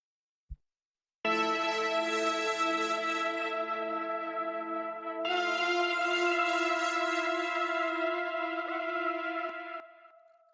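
Layered synthwave presets with a gritty sampled baritone guitar from Omnisphere play together as a sustained, harmonically rich chord that sounds once, shifts to a brighter voicing midway, and then fades, preceded by a brief click.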